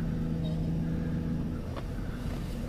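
A car backs out of a parking spot, its engine a steady low rumble throughout with a brief faint click near the end, no talk.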